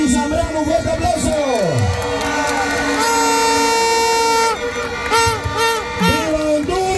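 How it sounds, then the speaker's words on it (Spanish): Crowd at a political rally in Honduras cheering and whooping, with horns blaring over the noise and voices shouting, loud and sustained throughout. "¡Un fuerte aplauso!"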